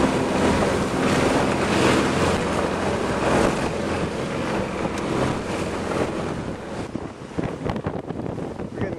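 Steady wind roars across the microphone and waves wash and slosh against the hull as a sailboat cruises at about four to five knots under a partly raised mainsail and jib. The sound is continuous and loud, with no talk.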